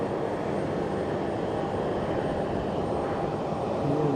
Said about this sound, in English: So I think that Chinook is taxiing.